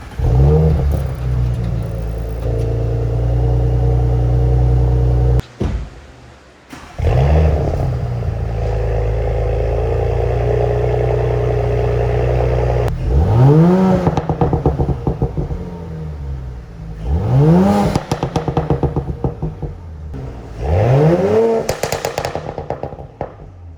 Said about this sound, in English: we're gonna see how the new exhaust sounds.